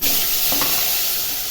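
Potatoes hit hot oil in a kadai already seasoned with cumin and bay leaf, producing a loud, continuous close-up sizzle with a brief stir, and no speech.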